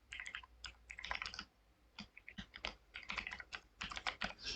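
Steady typing on a computer keyboard while entering an email address, with quick bursts of key clicks separated by short pauses, close and fairly quiet.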